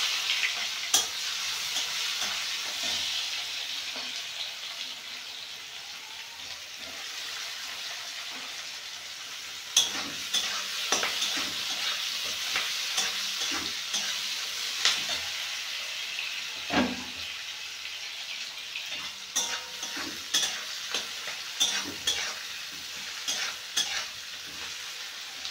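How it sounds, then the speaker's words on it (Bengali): Chopped onion sizzles steadily in hot oil tempered with cinnamon, clove and cardamom, a continuous bright frying hiss broken by scattered crackles and spatula scrapes across the pan, close and with no one talking. "এখন একটু পেঁয়াজ কুচি দিয়ে দেব"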